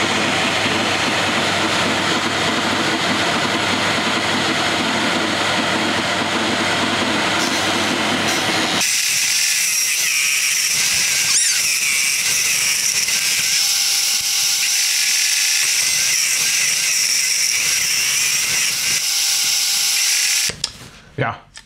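A saw cuts metal parts with a vacuum cleaner hooked up to it, building a mirror charging station for a Car System vehicle: a loud, steady whirring and grinding drone that changes pitch midway and stops abruptly near the end.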